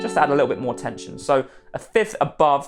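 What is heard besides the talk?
No distinct noise like a dog, phone or traffic.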